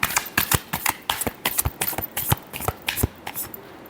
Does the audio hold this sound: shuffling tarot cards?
yes